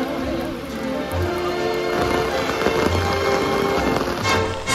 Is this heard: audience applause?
no